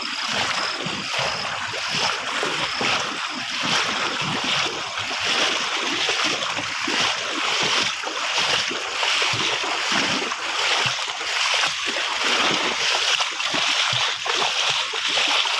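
After heavy rain, a broad rush of rainwater pours into a river, a continuous loud churning and splashing that carries on without pause the whole time.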